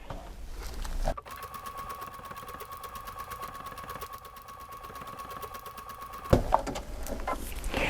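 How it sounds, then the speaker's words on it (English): A sewing machine stitches fabric in a steady, fast mechanical whir for about five seconds, close and alone, then stops with a couple of clicks. "as I'm stitching the first couple stitches, it looks like it's kind of close together"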